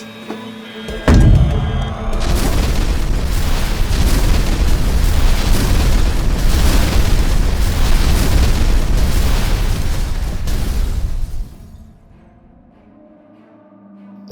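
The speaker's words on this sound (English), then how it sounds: "That explosion was picked up on every seismic device by every intelligence agency on the planet." A huge movie-style explosion erupts with a sudden loud boom, then a sustained roaring blast of debris and rumble lasting about ten seconds before it cuts to quiet.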